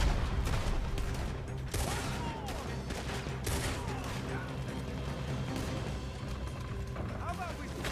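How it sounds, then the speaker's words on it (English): Sniper and rifle gunfire in Red Dead Redemption 2 during a gang shootout: dense, repeated cracks and booms over about eight seconds under constant battle noise and shouting voices. "Они со снайпером стреляют."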